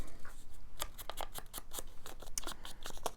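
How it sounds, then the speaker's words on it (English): Scissors snip through paper collage scraps in quick, uneven strokes, each cut a crisp, close, sharp crunch following the last with no talking. "I am going to cut these up and stitch them"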